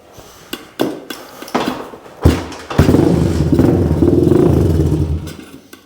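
A Honda 200X motorcycle engine struggles to idle, sputtering and thumping unevenly at first, then catching into a loud, rough, steady running note that wavers before fading near the end.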